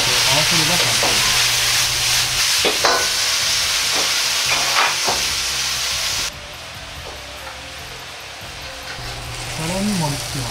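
Shrimp, wood ear mushroom and egg stir-fried in a pan, a steady loud sizzle with stirring and scraping of the ingredients, the frying dropping a little partway through.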